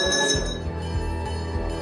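Temple bells in Mathura, the riverside city on the Yamuna, ring with sustained metallic overtones, a steady shimmering tone with fresh strikes layered over a low hum, fairly loud throughout.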